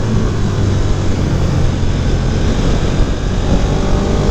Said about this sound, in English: as soon as you yank the throttle, it lifts off like an airplane